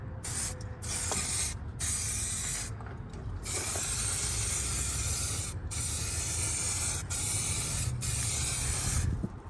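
An aerosol spray can is used outdoors to paint a part on a bagged Kenworth W900L truck, giving loud, hissing bursts of spray broken by short pauses and a rattling can, close to the microphone.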